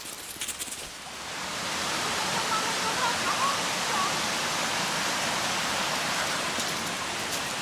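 A waterfall roars as a steady, broad rushing hiss that swells after a quieter opening and then holds constant and fairly loud throughout.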